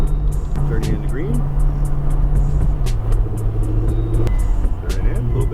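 A Ferrari engine hums steadily while driving on a track, a constant droning tone that shifts slightly in pitch as it accelerates, with voices talking over it.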